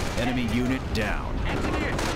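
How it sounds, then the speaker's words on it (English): Artillery shells pound the ground in the Company of Heroes battle for Hill 192, with loud, dense bursts of blasts and gunfire continuing throughout while a voice talks briefly over the start. "Now they're bombarding where we stood over there."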